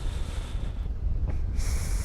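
Strong northwest wind rushing past during a paragliding flight high above the coast near Pléneuf, a loud, low, buffeting roar that fills the whole stretch with gusty fluctuations.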